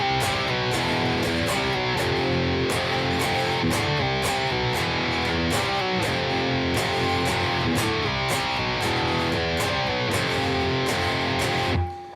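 A heavily distorted electric guitar plays a chorus riff, loud chugging palm-muted chords and sharp accented hits repeating in a steady driving rhythm, ending abruptly at the close.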